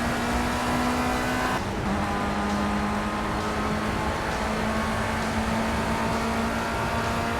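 Race car engines drone steadily from a green car and a rival on the Snetterton circuit in a Project CARS FR UK Challenge race, a loud sustained tone with a brief dip as a gear is missed, then a steady pull again.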